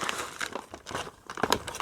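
Plastic foil pouch of Mountain House Korean Inspired Beef freeze-dried meal crinkles and rustles loudly up close in irregular bursts as the rehydrated food is stirred, with no one speaking.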